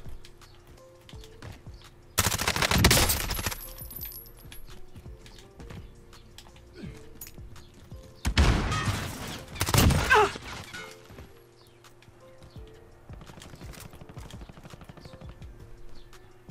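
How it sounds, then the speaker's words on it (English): Two sharp, loud bursts of sniper rifle fire in a shooter video game, a few seconds apart, each with a brief echoing tail, over quiet in-game ambience. "Where were them other shots coming from?"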